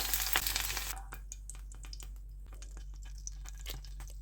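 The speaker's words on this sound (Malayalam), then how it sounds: "നമുക്ക് ഈ വെണ്ടയ്ക്കായ ഒന്ന് ഫ്രൈ ചെയ്തെടുക്കാം." Okra (lady's finger) frying in hot oil for Kerala sambar, a loud sizzling burst at first that drops to soft scattered crackles and pops, close by with no talking.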